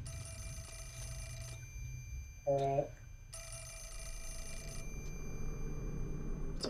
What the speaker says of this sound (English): Phone. Don't pick it up.